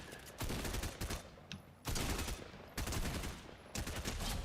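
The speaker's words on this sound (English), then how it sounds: "Oh my God, I'm getting shot at." Bursts of rapid gunfire in the video game Honkai Star Rail come in three loud clusters of dense shots, each lasting about a second, with a steady game background between them.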